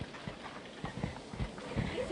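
Racehorse hooves clip-clopping on the ground in a short, irregular series of close knocks, with light background noise and a brief bit of voice near the end.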